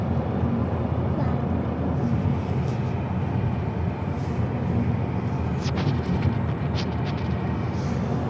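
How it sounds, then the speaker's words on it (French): Road noise inside a moving car, a steady low rumble and hiss that continues unbroken throughout with no voice. "j'ai fait cet audio en voiture, donc il y a un peu de bruit parasite certainement"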